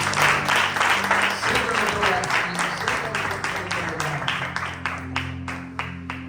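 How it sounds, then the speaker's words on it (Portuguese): A church congregation claps in praise during a worship service, sharp rhythmic hand claps in unison over sustained organ or keyboard tones and voices, loud and close, with the clapping growing more spaced toward the end. "Dê uma salva de palmas para o Senhor."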